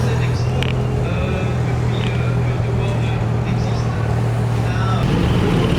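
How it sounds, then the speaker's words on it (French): A Porsche 718 Spider approaches at a Porsche cars-and-coffee meet, its steady engine drone rising beneath constant crowd chatter and surrounding ambient noise. "on dirait un 718 Spider qui arrive"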